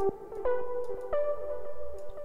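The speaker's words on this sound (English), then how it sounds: "I'm going to use a really basic synth from my pack Orbital, and it is an X for Serum sound." A basic synth patch from the Orbital pack for Serum plays a short melodic phrase of sustained, harmonic notes with glides between pitches. It is soft and clean, with no voice.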